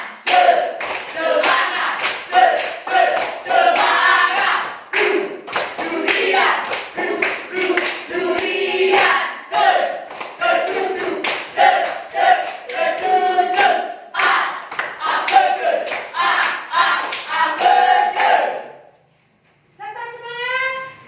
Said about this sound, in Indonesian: Kita menyanyikan dulu tepuk semangat.